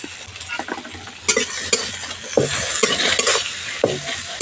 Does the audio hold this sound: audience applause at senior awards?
no